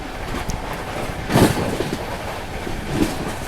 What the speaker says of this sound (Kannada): Overtaking Andhra Pradesh Express.